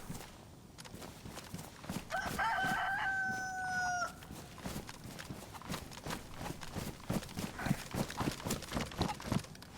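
Chicken in the DayZ video game, heard as a rooster-like call lasting about two seconds, with repeated clip-clop footsteps around it and no talk.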